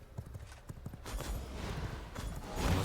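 Horse hooves clip-clop in a steady riding rhythm in the vampire survival game V Rising, with a brief whinny and game ambience rising underneath, moderately loud and close.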